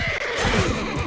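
A horse in the video game Mount and Blade 2: Bannerlord gives a single loud, close whinny with a quavering, descending pitch, with faint hoof clatter underneath.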